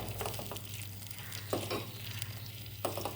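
Butter melts in a small ladle, giving a quiet, continuous low sizzle with a few faint clicks of stirring, close by and with no voices.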